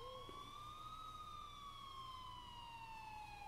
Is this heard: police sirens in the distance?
yes